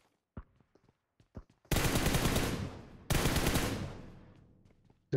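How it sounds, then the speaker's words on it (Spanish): Video game gunfire for a distraction comes in two long, loud automatic bursts that each fade with echo, preceded by a few sharp isolated shots. "Voy a hacer disparo de distracción."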